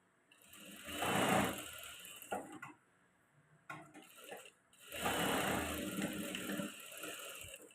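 A sewing machine stitching a padded blouse, with two quick whirring runs separated by a brief pause and small clicks, close but soft.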